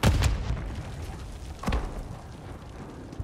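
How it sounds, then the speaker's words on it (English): Mortar explosions in Call of Duty: Black Ops 6, a heavy boom at the start and a second one near the middle, each decaying into a low rumble over faint background battle noise. "Incoming mortar, move."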